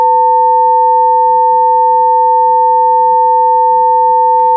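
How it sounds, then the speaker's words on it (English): Two steady pure sine tones at 500 Hz and 900 Hz sound together, a loud continuous electronic hum holding level for the whole stretch with no voices. "when we play 500 hertz and 900 hertz, you're going to see if you can hear this sound that is kind of underlying the other two"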